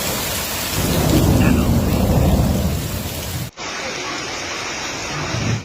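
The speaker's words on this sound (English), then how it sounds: "Heavy rain lasting 30 to 40 minutes this morning, accompanied by large and dangerous hail, flooded Lipari's town center" Heavy rain pounds down with a deep rumble of thunder during a hailstorm over the flooded town center of Lipari, Italy, loud and continuous, then cuts abruptly to a thinner steady downpour.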